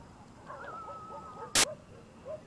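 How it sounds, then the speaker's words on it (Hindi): A dog whimpers in a long, thin, faint whine that rises and then holds. A single sharp knock cuts in midway, with a quiet, hushed background around it. "ऐसे लग रहा है जैसे किसी कुत्ते को मारा नहीं जा रहा, वैसे आवाज आ रही है"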